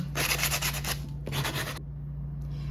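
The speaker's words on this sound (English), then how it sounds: "don't think this sandpaper has the appropriate roughness to really polish this kind of wood" Sandpaper rubs back and forth on wood for a handmade broomstick, with quick, close rasping strokes in two bursts separated by a short pause, steady and fairly loud, with no voices.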